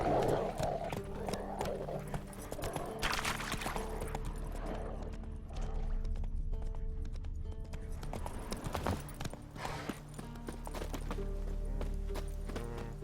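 Geralt's horse Roach from the video game The Witcher 3 trotting with steady, rhythmic hoof clip-clops close by, joined by a snort or whinny and a soft game score beneath.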